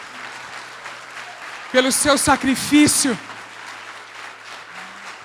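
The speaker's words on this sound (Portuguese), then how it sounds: "Você pode dar um aplauso ao Senhor Jesus Cristo nessa manhã" A church congregation bursts into applause during a Portuguese-language service, with loud clapping lasting just over a second before fading back under the preacher's voice.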